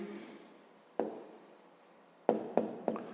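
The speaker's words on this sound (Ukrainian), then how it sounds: "Записуємо тоді відповідь." Pen or pencil writing an answer on paper during a grade 5 math exercise, faint scratching strokes broken by a few sharp taps, close and quiet, with no voices.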